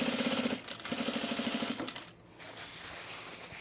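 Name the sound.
sewing machine stitching a jacket seam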